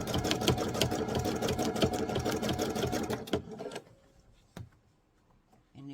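Sewing machine stitching fabric for a bowl project, a rapid loud mechanical chatter for about three seconds that stops abruptly, followed by a couple of isolated clicks and quiet handling.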